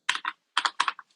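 Bursts of computer keyboard typing during a software demonstration, a few quick clusters of keystrokes close up with short pauses between them, no talking.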